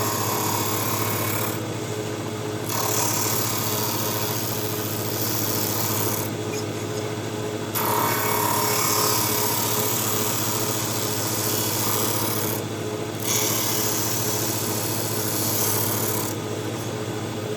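Steady abrasive rasping as a flamenco guitar bridge blank is ground flat down to about 4.5 millimeters thick, a continuous close scraping with brief pauses and shifts every few seconds.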